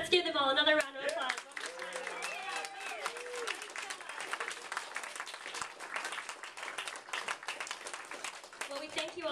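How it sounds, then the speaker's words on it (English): Applause from an audience at an evening gathering after a gospel song, a sustained, moderately loud patter of clapping mixed with crowd noise, with voices and cheering over it at the start. "Let's give them all another round of applause."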